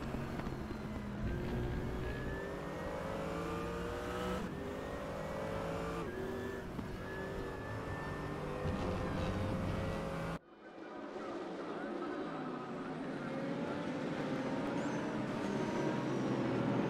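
Audi and AMG race cars circulate in a racing video game on the road to Bathurst, engines droning loudly and continuously with shifting revs and passes, under steady commentary from two voices.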